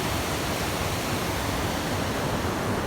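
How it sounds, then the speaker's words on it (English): A waterfall in the Lake District near Scafell roars steadily, a dense rushing wash of falling water that stays constant and fairly close throughout. "Lovely waterfall there."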